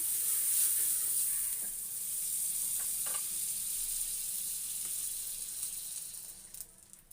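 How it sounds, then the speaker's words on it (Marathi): Butter sizzles on a hot griddle in a steady, soft hiss that holds for several seconds before tapering off. "थोडं बटर टाकून घेऊया"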